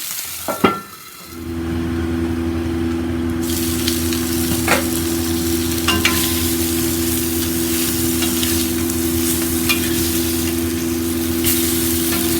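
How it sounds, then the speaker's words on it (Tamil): Sardines (mathi fish) frying in a pan: after a short clatter, a loud, continuous hissing sizzle with a steady low hum underneath, close and unbroken, with no talking. "நல்லா ஃப்ரை ஆகிடுச்சுங்க. ஃபுல்லாக நம்ம ஃப்ரை பண்ணிட்டோம்"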